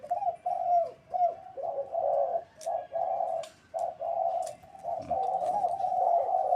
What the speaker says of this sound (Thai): นั่นก็นกต่อครับ นี่ก็นกต่อนะครับ